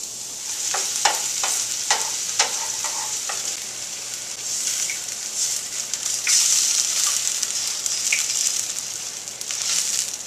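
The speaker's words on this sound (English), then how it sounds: "some olive oil in the pan. Add our shallots." Shallots sizzle in hot olive oil in a pan, a steady bright frying hiss with scattered crackles and pops near the start, close and loud with no talk.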